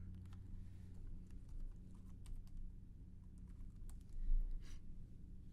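Soft, rapid clicking of computer keyboard keys being typed, a quiet steady patter over a low background hum with no talking.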